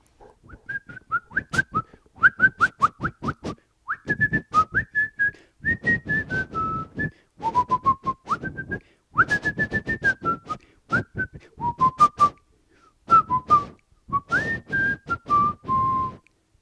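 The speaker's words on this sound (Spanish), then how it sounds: "silbando una alegre melodía escocesa" Someone whistles a lively Scottish melody in quick trills and bouncing phrases, with brief clicking or tapping beneath, near and fairly loud.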